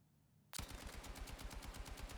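Light machine gun firing in Battlefield 6 battle royale, a sudden sustained burst of rapid, evenly spaced shots, loud and close, continuing for well over a second with no talk over it.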